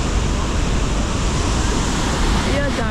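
A waterfall at a Bali temple site roars as a dense, steady wash of falling water, loud and close, filling the whole stretch without pause.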